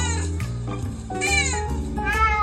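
A cat meows repeatedly at other cats on a TV screen, a run of several close, loud, wavering cries in quick succession.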